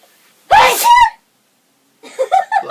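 One sharp, loud human sneeze sounds close by, followed after a short silence by a burst of voiced reaction.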